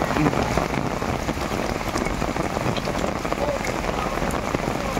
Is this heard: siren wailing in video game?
no